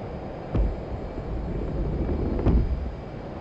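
An F/A-18C Hornet jet rumbles on takeoff in the DCS flight simulator, a steady broad engine roar with a couple of heavier low thumps.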